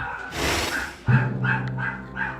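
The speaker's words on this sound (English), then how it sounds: "if you hear dogs in the background," A dog barks and yips several times in quick succession, fairly close, with a whimpering edge between barks.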